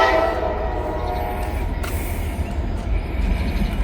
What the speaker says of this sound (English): We got a train coming eastbound on the Canova line.